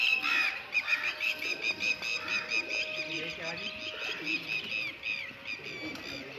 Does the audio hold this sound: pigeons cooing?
yes